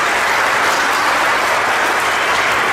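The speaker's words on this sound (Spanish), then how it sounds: "Un aplauso pues para el hermano, fuerte que se escuche el aplauso." Audience applause at a religious debate, a dense steady wash of clapping throughout, loud and close with no voices over it.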